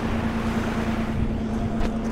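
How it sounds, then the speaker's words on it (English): A large exhaust fan in a light deprivation greenhouse runs steadily, giving a loud, constant whooshing roar of moving air with a persistent low motor hum throughout. "So it'll be a little loud, but this is the exhaust."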